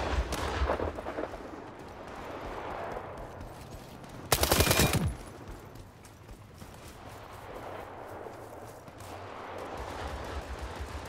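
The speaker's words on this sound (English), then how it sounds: "They're getting shot from the left over here." Gunfire in the military shooter World War 3, with a steady stream of distant rifle shots and crackling bursts on a noisy battlefield, plus one loud, close burst of fire about halfway through.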